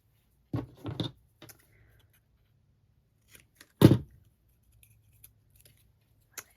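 Scissors snipping craft kit paper for a mermaid journal, a few quick close cuts at first and then a single louder crisp snip, separated by quiet pauses and light handling rustles.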